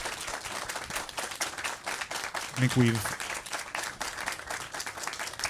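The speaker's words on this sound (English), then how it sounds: "please give a round of applause" Audience applause after a talk, a continuous dense patter of many clapping hands at steady volume, with a brief spoken phrase partway through.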